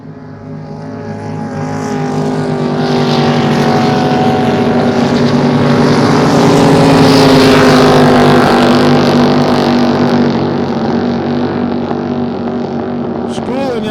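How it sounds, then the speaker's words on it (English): Racing sprint boat engines roar at a sprint boat race, a loud sustained howl swelling and fading as boats pass, with one engine showing a slight high-end misfire and wind noise over the microphone. "In the engine sounds like the 55 boat from yesterday, but he's got a little high-end miss"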